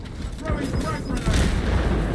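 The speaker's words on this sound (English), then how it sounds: "Throwing frag grenade." A frag grenade detonates in a shooter video game, a deep booming blast with rumbling debris, heard under and around people talking over the action.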